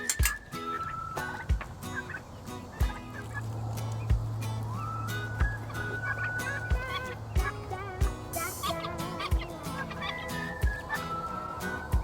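A turkey gobbles repeatedly among other farm fowl, loud rattling calls recurring every second or so over clucking and a steady low hum, with a short voice briefly speaking.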